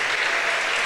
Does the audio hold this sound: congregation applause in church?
yes